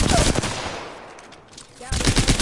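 Rapid video game gunfire from an online shooter, loud bursts of automatic shots at the start, fading to a quieter lull, then another dense burst near the end.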